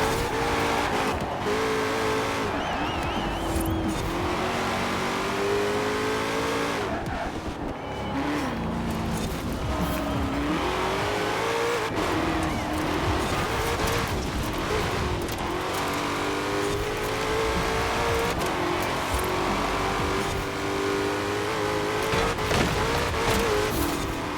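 In the Forza Horizon 4 racing game, a 2020 Shelby GT500 spins its wheels off the line and then corners hard. A loud, continuous engine roar shifts pitch as the car revs, with tire squeal mixed in.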